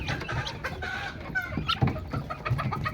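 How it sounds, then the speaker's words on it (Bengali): Native backyard chickens cluck close by in short, repeated bursts, with a few sharper squawks mixed in among the flock. "দেশি মুরগির মতো খেতে সুস্বাদু, বাড়ি ভর্তি মুরগি"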